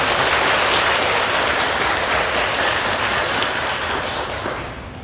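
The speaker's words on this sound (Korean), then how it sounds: "우리 도선생님께 감사 박수 부탁드리겠습니다" Audience applause in a Buddhist lecture hall, thanking a monk at the opening of a sutra study class; dense, steady clapping from many hands throughout, tapering slightly toward the end.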